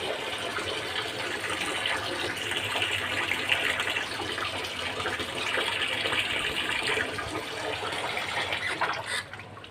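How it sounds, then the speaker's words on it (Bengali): Rice is washed by hand in water, with continuous close sloshing and swirling that stays fairly loud throughout and has no talking over it. "চালটা ভালোভাবে ধুয়ে নিচ্ছি, হাত কষলিয়ে কষলিয়ে"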